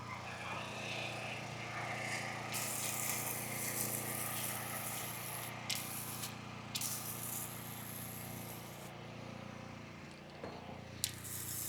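A soft-wash rig sprays cleaning solution across a tile roof on a cold Florida morning, a steady hissing spray under a constant pump drone, with brief pauses and a few clunks.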